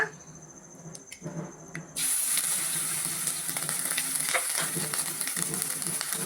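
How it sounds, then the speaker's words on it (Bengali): Curry leaves hit hot oil and burst into a sudden loud, close sizzle that continues steadily with crackles, after a quieter moment of light clatter. "এবার কারি পাতাটা একটু ভাজা ভাজা করে নেব সুন্দর সেন্ট বেরোবে এর থেকে"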